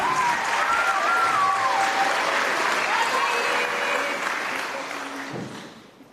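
Lively applause from an audience at a tenth-anniversary celebration, with a few whistles and voices rising above the dense clapping before it fades out.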